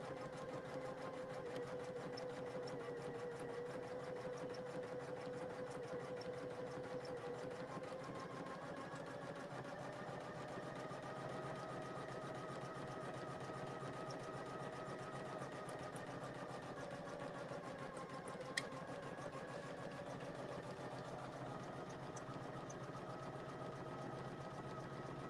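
A Poolin single-needle embroidery machine stitches steadily, a soft continuous mechanical whir and hum with a faint rhythmic pulse, running alone at low level throughout.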